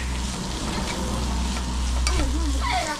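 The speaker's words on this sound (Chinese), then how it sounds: "白菜放进去了，翻炒一下" Cabbage being stir-fried in a pan at a roadside stop on a Tibet cycling trip, a continuous close sizzle with scraping stirs and faint background sounds.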